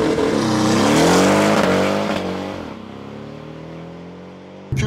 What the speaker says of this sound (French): On va faire un petit départ arrêté histoire de voir ce que ça donne.